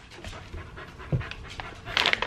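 Two excited puppies pant quickly and close by, with rapid breathy huffs, a faint whimper and some rustling toward the end. No one talks.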